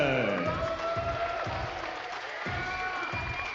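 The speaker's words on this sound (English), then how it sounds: "a round of applause for Alex Kent" Applause and cheering from a bodybuilding audience at a Classic Physique finals show, sustained crowd noise with scattered whoops and tonal voices over the top, fairly steady throughout.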